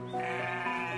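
A single sheep gives a sustained, steady bleat up close, loud and alone with no talking, lasting about a second.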